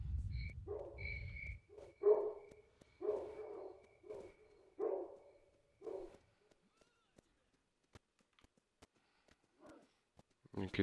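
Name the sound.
dogs barking in video game Stalker: Shadow of Chornobyl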